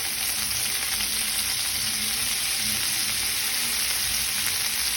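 Curry leaves and taro pieces frying in hot oil give a steady, loud, close sizzle with a dense hiss running the whole time and no talking.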